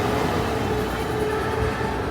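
A Disneyland parking-structure tram runs in a continuous steady rumble with a low engine drone and a faint tonal hum, with no talk over it.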